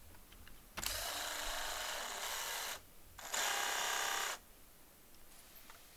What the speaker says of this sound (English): A little 90-degree angle drill, making that job a lot easier.